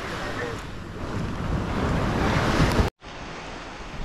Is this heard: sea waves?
yes